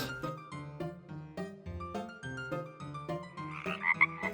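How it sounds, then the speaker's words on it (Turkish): Toy frog croaks mix with a bouncy electronic toy tune, steady and moderately loud throughout. "Kurbağa."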